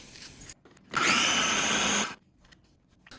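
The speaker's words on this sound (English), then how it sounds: "we're going to blitz this now in our little baby blender" A small blender whirs loudly for about a second in one short burst while blending piña colada ice cream ingredients, with quiet pauses before and after.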